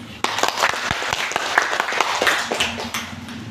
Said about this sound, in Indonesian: mari sama-sama kita berikan aplaus untuk kita semua